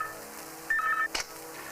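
Telephone dialing in a room of a Hindi film scene: a short run of keypad beeps, followed by a brief sharp click, with faint background hiss and no speech.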